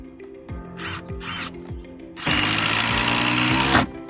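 A power tool fastens solar panel roof hooks to a roof, with two short whirring bursts followed by a longer steady run, loud and close, over intermittent knocks.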